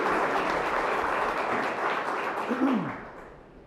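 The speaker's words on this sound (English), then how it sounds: "So let's give everyone a round of applause." Audience applause at a bill signing ceremony, a steady broadband patter of many hands clapping for several seconds before tapering off toward the end.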